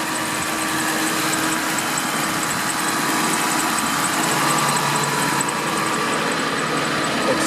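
A 2001 Ford F550 crew-cab 4x4 wrecker truck with a Miller body and engine-driven PTO idles steadily when warmed up, a constant close diesel rumble with a faint repeating ticking and no speech.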